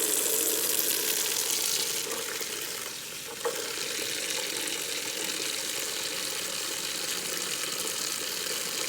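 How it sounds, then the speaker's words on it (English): Cold tap water runs and splashes steadily over dirty metal-detecting coins being rinsed of suds, a continuous close hiss with a brief dip partway through. "we're gonna go ahead and rinse off with cold water"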